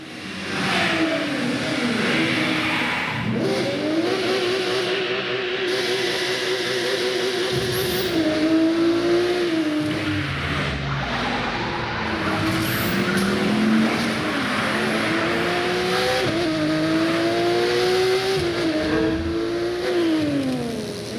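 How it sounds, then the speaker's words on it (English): Street-racing cars in a video game screech and skid with sustained tire squeal while engines rev up and down through repeated gear shifts, loud and continuous throughout with no gaps. "street racers prove their skills, skidding on rooftops, burning asphalt, and tuning their rides"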